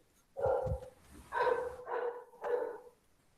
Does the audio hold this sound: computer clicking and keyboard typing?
no